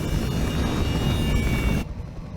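Helicopter in the mech strategy game Roguetech/Battletech, a steady loud droning rotor and engine roar that cuts off abruptly near the end, leaving a faint low rumble.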